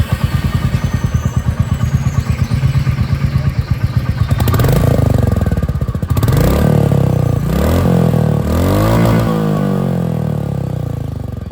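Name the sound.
Royal Enfield Meteor 350 motorcycle exhaust sound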